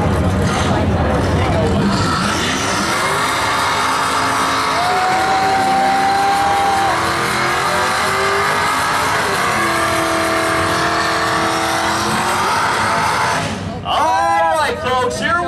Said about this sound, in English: That's what we call a burnout here.